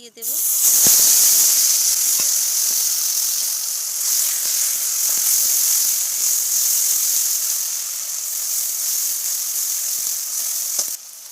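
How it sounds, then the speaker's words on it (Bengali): Spices hit hot oil left from frying rohu fish and burst into a loud, steady hiss and sizzle that holds close and constant throughout, with a few faint clicks and no talking. "মাছ ভাজার তেলের ভিতরে আমি সব মশলা একসাথেই"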